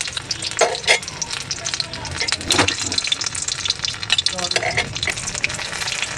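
Gourd-leaf-wrapped katla fish sizzles in hot oil over a gas flame, a dense continuous crackle with bursts of louder spattering and faint utensil stirring, close and without speech.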